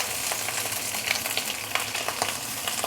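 Ikan bakar wrapped in banana leaf sizzles on a hot grill with a dense, steady crackle and scattered small pops as the fish is turned over.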